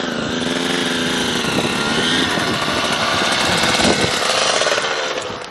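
A KTM 85 two-stroke dirt bike engine screams close by, a loud, raspy, high-revving buzz held near full throttle for the whole stretch with small wavers in pitch.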